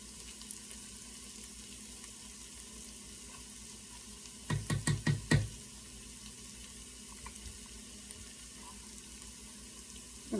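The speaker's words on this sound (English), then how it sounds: "I'm going to fry this up." Paste and vegetables for a vegetarian lasagna hiss in a pan with a steady, fairly quiet sizzle, broken midway by a quick run of five or six sharp metallic clatters from a utensil.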